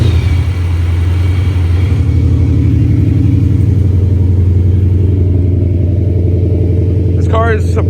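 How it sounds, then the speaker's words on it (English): A supercharged Gen 3 Coyote-swapped S197 Mustang with a Paxton Novi 2200, high-flow cats, resonators and mufflers idles after a cold start on a freezing, frosty day, giving a steady, loud, even low rumble throughout. "Let's get a quick little cold start here."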